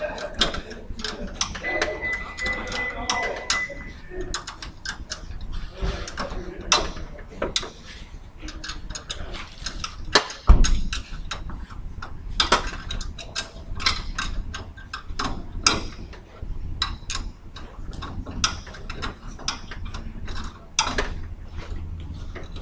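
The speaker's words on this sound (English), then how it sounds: "go ahead and use your wrench, or however best you can get to your top 3 mounting bolts, and go ahead and get them loose" A wrench ratchets and clanks while loosening the top mounting bolts of a car strut, with close, irregular bursts of clicking, metallic knocks and scraping throughout.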